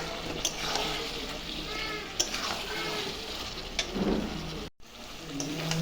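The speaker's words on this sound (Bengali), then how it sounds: "আলুটা দিয়ে আরেকটু কিছুক্ষণ কষাবো।" Meat and fried potatoes sizzle in a hot pan while being stirred, a continuous close frying hiss broken by scraping spoon strokes and occasional clatter.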